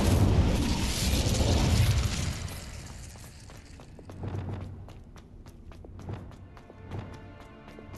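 A fire spell cast in Hogwarts Legacy opens with a loud roaring burst of flame that fades after two seconds into quieter crackles, followed by several soft thumps and scattered sharp ticks.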